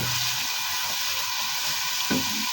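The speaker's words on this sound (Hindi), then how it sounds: "प्याज को ना हमने सौटे करना है, इसका कलर चेंज होने तक पकाना है।" Chopped onion sautéing in hot oil for a dhaba-style tandoori turai dish makes a steady close-up sizzle and crackle, with a brief stirring scrape near the end.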